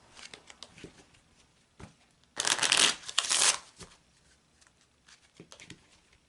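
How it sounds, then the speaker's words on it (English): Playing cards are shuffled in a quick riffling burst, loud and close, between quieter soft handling noises and light taps. "So let's shuffle that into the cards."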